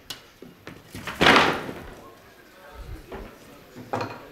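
A wooden wine barrel being knocked apart at a bar show, with a few hard thuds and knocks, one louder blow early on, amid background talk from people nearby.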